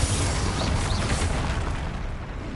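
Fiery blast from the Confringo spell in Hogwarts Legacy on PS5, a loud, dense explosive roar that fills the whole moment with a rumbling low end and crackling burst, without speech.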